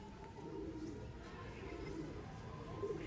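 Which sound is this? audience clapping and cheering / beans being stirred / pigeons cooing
pigeons cooing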